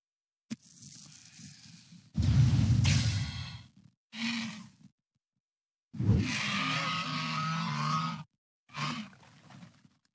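A Mana Surge spell effect from a dragonkin hero in a fantasy video game, heard as several separate roaring bursts with gaps between them, loud and growling with a bright crackling edge, and no talk.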